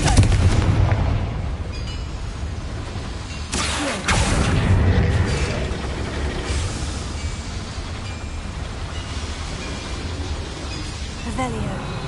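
Confringo blasting spells explode inside a mine in Hogwarts Legacy, producing deep booming blasts and crackling bursts over a dense rumbling game soundscape.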